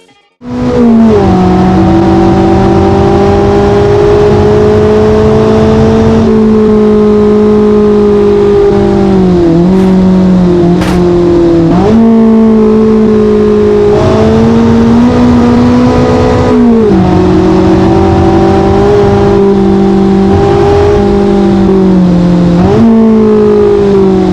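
A Jing Wang Roadcruiser with a 16-valve 1.8-litre, 160-horsepower engine revs loudly and accelerates close by, its pitch repeatedly climbing and then dropping between gear changes in one steady, continuous roar with no talking.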